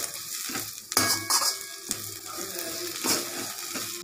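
Ridge gourd peel sautéing in a pan, with a steady oil sizzle and repeated scraping and clinking of a spoon stirring against the metal, close and fairly loud with no talk.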